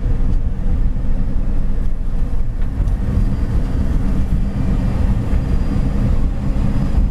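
A 1972 Volkswagen pickup driving in second gear at about 30 to 35 mph, its engine a steady loud low drone mixed with road and wind rumble, continuous and close.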